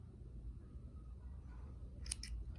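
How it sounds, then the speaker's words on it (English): Scissors snip the frayed, fuzzy end of a sewing thread, making two quick close clicks near the end of an otherwise quiet stretch with a low background rumble. "if the thread is starting to peel apart like this and gets a little bit fuzzy, we can snip it"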